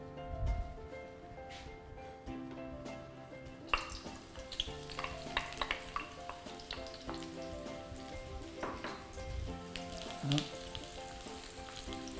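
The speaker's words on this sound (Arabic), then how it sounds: "هنا جوج مغارف زيت او 3 ملاعق زيت سخنت، راح ندير البصل" Sliced onion rings dropped into hot oil start to fry, a steady close sizzle with crackles and pops, joined by occasional clinks of utensils and faint background sounds.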